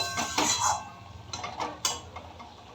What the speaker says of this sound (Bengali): আমি এবার তরকারিটা ঢাকা চাপা দিয়ে রান্নাটা করে নেব।